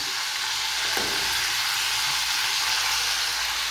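Liver frying with seasoning in a home kitchen pan, a dense, steady sizzle, loud and close, with one sharp knock of a utensil stirring the dish and no speech.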